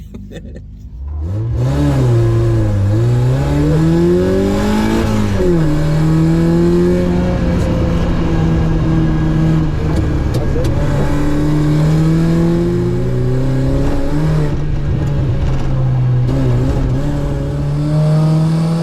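A loud rally car engine revs hard during a stage rally, pitch climbing and dropping through repeated gear changes, close and sustained throughout.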